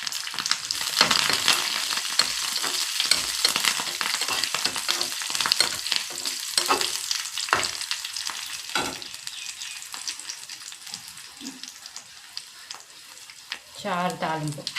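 Onions sizzle in hot oil with cumin, fenugreek and curry leaves as a tempering for rasam, a steady loud frying hiss with stirring scrapes, fading toward the end as a voice briefly speaks.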